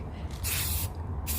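Aerosol spray can applying flat black paint to cabinet doors, loud close hissing in short bursts with brief pauses between strokes.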